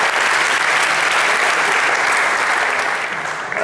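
A TV game-show studio audience claps loudly and continuously, a thick, close wash of applause that holds steady from start to finish.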